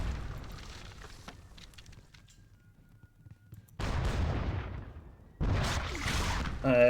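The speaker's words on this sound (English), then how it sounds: "let us get the artillery fire softening him up a bit" Artillery guns fire in a Seven Years War battle game at Zorndorf, two loud rumbling booms breaking out after a quieter fading stretch, each blast sudden and heavy.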